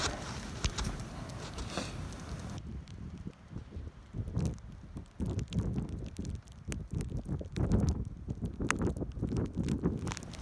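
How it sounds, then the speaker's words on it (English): Wind blows through moving treetops in a wooded outdoor setting, a faint, steady rushing and rustle with some microphone buffeting and scattered small crackles. "I see some of the treetops really moving around, but I'm pretty sure that's the wind."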